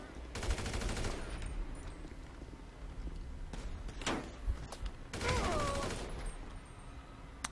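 Gunfire in GTA V, with bursts of rapid shots in two main volleys and a sharp single crack between them, fairly loud and mixed with other game sounds.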